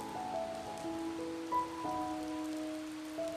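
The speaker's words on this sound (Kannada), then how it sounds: "ಬಿಸಿಲು ಮತ್ತೆ ಮಳೆ ಒಟ್ಟಿಗೆ ಬರ್ತಾ ಉಂಟು" Rain falls during sunshine, a soft steady hiss of drops on surfaces in the background, faint and continuous, with a few tonal birdlike or music notes drifting over it.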